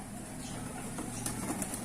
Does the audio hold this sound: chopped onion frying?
no